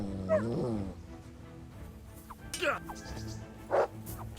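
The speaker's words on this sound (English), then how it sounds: "It's dogs." Dogs barking in the medieval video game Kingdom Come: Deliverance, a few short scattered barks and yelps over a low game background, with a person talking in between.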